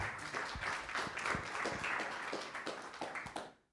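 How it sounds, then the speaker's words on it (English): Audience applause for a speaker at an Ethereum Foundation talk, a steady wash of many hands clapping for several seconds before fading out at the end. "Quick round of applause for Julian."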